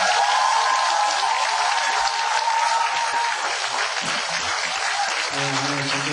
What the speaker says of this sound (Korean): 우리의 공연을 자축하는 의미에서 크게 박수를.